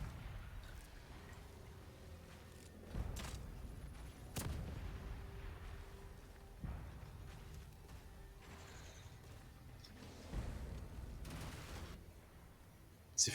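Sniper rifle fired in the horror video game The Evil Within 2, giving several sharp, booming reports spaced a few seconds apart over a quiet, low rumbling game background.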